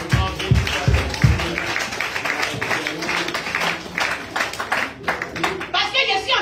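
Clapping hands from a church congregation during a Pentecost sermon, a rhythmic burst of claps near the start that fades under continuing voices and speech.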